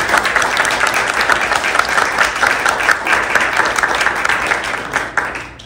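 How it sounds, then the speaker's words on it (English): An audience gives sustained, dense applause for a group of musicians after a lecture, the clapping loud and even for several seconds before tapering off at the end, with no speech. "Let me just ask for another hand of applause for our musicians."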